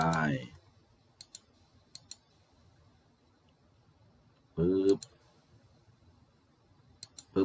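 Crisp computer mouse clicks while working in SketchUp, coming singly and in quick pairs at irregular intervals, close and clear, with someone speaking Thai in brief stretches between them.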